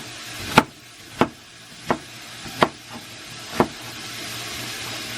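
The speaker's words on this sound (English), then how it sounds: "Can y'all smell that sizzle?" Sweet pepper hitting hot oil with garlic in a soup pot for a 15 bean and ham soup, giving a steady sizzle broken by five sharp, evenly spaced knocks, close and fairly loud.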